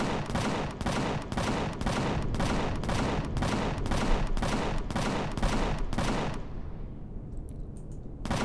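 Turrets in the space-survival game Empyrion Galactic Survival fire a rapid, evenly spaced volley of about a dozen heavy shots over six seconds, then fall quiet into a fading tail with a few faint distant reports.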